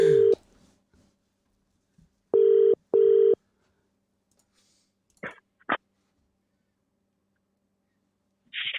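A phone line on a football phone-in show gives a couple of loud, steady tone bursts, followed by several short, fainter beeps and clicks scattered through near silence.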